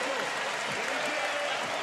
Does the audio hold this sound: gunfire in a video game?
no